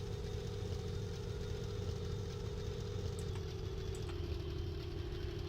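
An aircraft engine in the Minecraft modpack Deceasedcraft drones in a steady low hum with a constant buzzing tone, holding an even level throughout with no voices.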